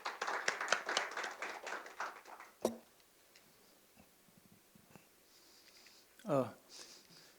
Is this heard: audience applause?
yes